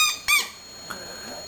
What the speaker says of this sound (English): we bought a little squeaky toy for a little pet and took the squeaker out of it and put it into the little bellows in here